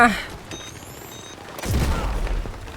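Gunfire in the shooter game Battlefield 6: scattered shots and mechanical clicks lead into a heavy, rumbling burst of fire in the second half, with muffled voices underneath.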